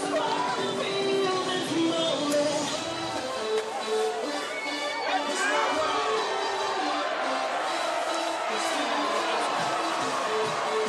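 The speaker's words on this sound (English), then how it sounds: "That's how loud that student section is." A high school football student section at a Lehi vs. Davis game roars and cheers without letup, with whoops and shouts in a dense wall of crowd noise and talk mixed in.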